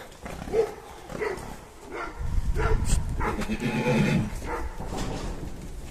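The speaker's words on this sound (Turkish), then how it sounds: "Evet eşek kavgası var." Donkeys fight on a farm, with harsh braying and squealing cries rising into a loud, scuffling commotion mid-clip amid thumping movement, close by.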